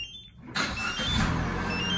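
A 2018 Chevy Trax push-to-start engine turns over by remote start, a sudden broadband burst that settles into a steady, close idling rumble.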